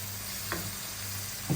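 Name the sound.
garlic and mushrooms stirred and frying in a pan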